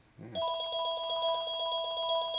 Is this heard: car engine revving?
no